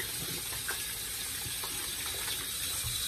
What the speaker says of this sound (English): I'm pouring uh, fresh water, and I'm just swirling this around letting it drain, getting all the soap out of it